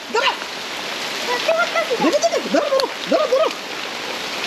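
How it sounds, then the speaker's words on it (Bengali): Heavy rain pours steadily over a village fish pond, a constant broadband hiss of water that fills the whole clip, with a voice speaking over it. "প্রচুর বৃষ্টি, প্রচুর বৃষ্টি।"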